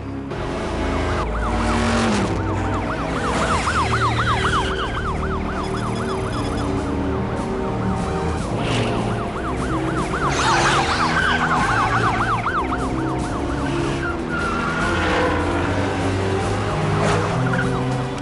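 Wailing police sirens in the video game Diabolik: Track of the Panther rise and fall repeatedly over a dense bed of engine and traffic noise, loud and continuous with no talking.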